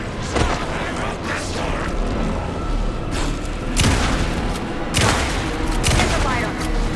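Gunfire in the video game Alan Wake 2: a dense, continuous barrage of loud shots with sharper bursts recurring every second or so, set against a thick layer of combat noise and voices.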